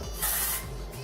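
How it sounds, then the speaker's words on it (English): Hair volume spray from an aerosol can, a loud close hiss lasting about a third of a second and then fading out, with no one talking over it. "And then I literally just spray that in."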